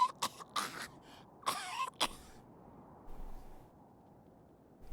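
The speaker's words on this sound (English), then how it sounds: "A fit of coughing takes her, and she fumbles in her knapsack." A game character in Wasteland 3 breaks into a fit of coughing: several quick, rough coughs close up over the first two seconds, then quiet.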